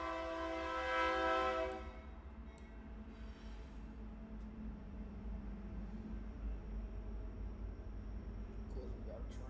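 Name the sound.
train passing by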